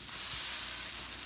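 Buttermilk pancakes sizzle on an electric skillet with a bright, even hiss that stays constant and close throughout.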